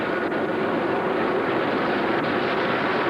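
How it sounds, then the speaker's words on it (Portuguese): Helicopters fly over a cemetery during a large public burial, their broad rotor and engine roar a steady, loud wash with no break. "Os helicópteros continuam sobrevoando."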